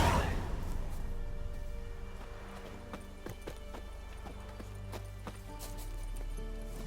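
Roach, a horse in The Witcher 3, gallops with a steady, close clip-clop of hooves over a low rumbling game soundtrack, running continuously without talk.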